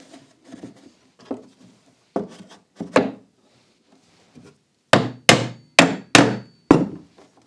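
Wooden holdfasts hammered down to clamp a piece of timber to a workbench: several soft taps, then five loud, sharp wooden knocks in a steady rhythm, close and alone.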